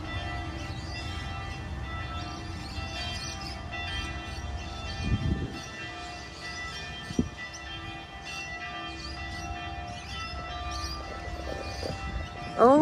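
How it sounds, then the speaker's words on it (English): Church bells ring steadily with sustained, humming tones over a dense, noisy background, continuing throughout with a few louder knocks and clatters. "Did you hear the church bell?"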